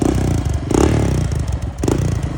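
A Honda 650R motorcycle crosses the finish line of a long desert race, its engine revving and rumbling close by with rattling clatter and a couple of throttle surges.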